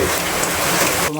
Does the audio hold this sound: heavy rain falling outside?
yes